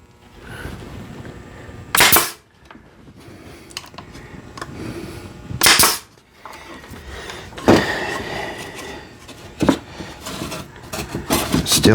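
A nail gun drives nails through angled wood pieces of a bird feeder, firing a few sharp, loud bangs several seconds apart amid close workshop handling noises.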